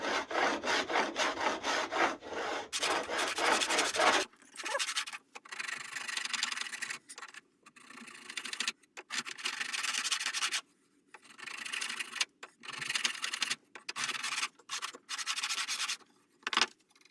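A hand file rasps across a mahogany neck-through guitar neck in repeated back-and-forth strokes, near and fairly loud: a quick dense run first, then steadier separate strokes with short pauses between them, and no talking.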